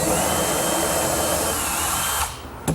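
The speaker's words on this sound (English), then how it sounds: "First I'll drill a pilot hole through" A power drill whines steadily, close and loud, while boring a pilot hole through the front of a laundry tray, then stops abruptly near the end.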